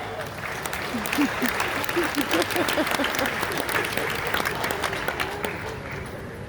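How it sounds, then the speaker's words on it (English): An audience at the official opening of the 66th CPC conference in Accra, Ghana, breaks into sustained, even clapping from a large hall, with murmured voices mixed underneath. "Please, a round of applause for Honourable Ian Liddle-Gringa."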